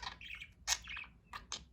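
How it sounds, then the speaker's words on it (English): Pet budgies chirp and tweet in quick, bright bursts while eating sweet potato, several sharp calls spaced across the moment, fairly close and alone without talk. "Oh, my cute baby bird."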